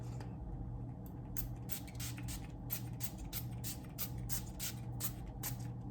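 Around a dozen short, quick spritzes of Urban Decay All Nighter makeup setting spray, close and soft, repeating in a quick uneven rhythm over a faint background hum.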